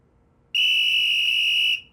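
A child blows a safety whistle in one long, loud, steady shrill tone lasting a little over a second, then it cuts off.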